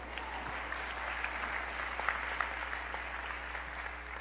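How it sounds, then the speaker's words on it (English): Audience applause at a mayoral inauguration speech in Baltimore, a steady sustained clapping from a large crowd that fills the whole stretch at moderate level. "yes, you can clap for that, yes"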